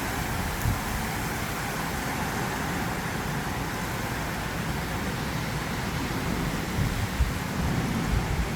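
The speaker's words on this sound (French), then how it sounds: "Vous entendez? Ça tonne." Storm Nils passing over Bordeaux, with steady dense rain and a low rolling rumble of thunder filling the whole stretch, broadband and continuous with no voices.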